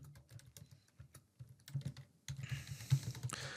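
Typing on a computer keyboard, bursts of quick close key clicks with short pauses, the later stretch denser and louder, no talking.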